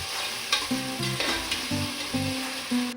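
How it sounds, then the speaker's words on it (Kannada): Chopped tomatoes frying for pulao in a hot pan, a steady sizzle with a spoon scraping and stirring in short repeated strokes, close and without talk. "ಟೊಮೊಟೊ ಹಾಕಾದ್ಮೇಲೆ ಹಾಕಿ 1 ನಿಮಿಷ ಬಿಡ್ದೇನೆ ಬೇಯಿಸ್ಕೋಬೇಕು, ಫ್ರೈ ಮಾಡ್ಕೋಬೇಕು ನೀಟಾಗಿ"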